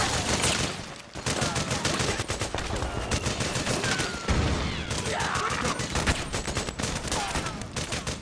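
Battle gunfire in Metal Gear Solid 4: dense, continuous automatic fire throughout, with overlapping bursts, a few heavier impacts and shouted orders mixed into the loud, sustained din.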